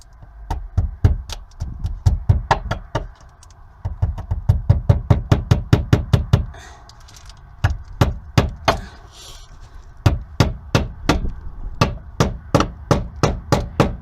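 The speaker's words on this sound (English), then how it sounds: "these teeny tiny little finish nails to nail in the top piece so that it stays into the wood" Small finish nails being hammered into wood during RV insulation work, a long series of sharp, close taps in steady bursts with brief pauses between runs.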